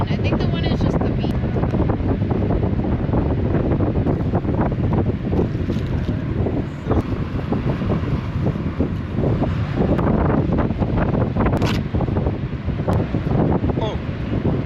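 Strong wind buffets the microphone on an Oregon coast hike, a loud continuous roaring rush with gusty swells and faint surf-like wash, with voices heard now and then beneath it.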